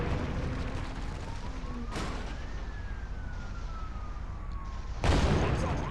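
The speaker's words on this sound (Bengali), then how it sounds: "পিছনে একটা পুলিশের গাড়ি আর পুলিশ চলে এসছে" Police car siren in a gangster crime video game, a wailing tone sweeping up and down steadily over a constant engine-like rumble, with a loud burst of gunfire or explosion near the end.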